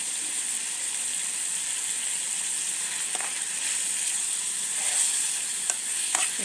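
Tomatoes sizzle and fry in a pan for a fried eggs and tomatoes dish, a steady bright hiss with occasional small pops and scrapes, close and continuous, no voices.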